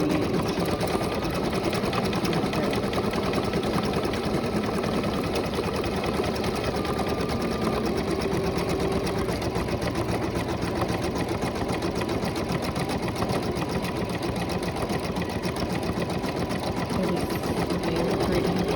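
A computerized embroidery machine stitching a unicorn design, a close, steady mechanical whirring and rapid needle chatter that runs unbroken throughout with no one talking.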